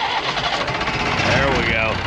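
An engine on paving equipment cranks and catches outdoors, a steady mid-pitched running rumble filling the short stretch while a voice talks over it.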